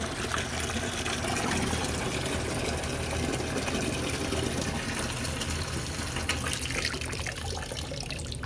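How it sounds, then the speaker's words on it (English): A pump forces liquid through a small tube, making a steady loud whirring hum mixed with gurgling, continuous throughout and heard close up. "the pump is exerting a certain amount of force to push this out"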